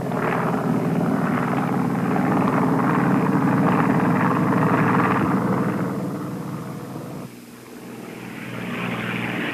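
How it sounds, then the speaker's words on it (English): A 1960s helicopter hovers while carrying and setting a pole in place, a loud, steady rotor-and-engine roar that eases and dips near the end before swelling again. "the helicopter goes back for another pole"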